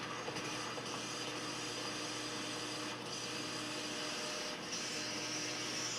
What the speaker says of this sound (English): the hole I'm boring right now is 2 inches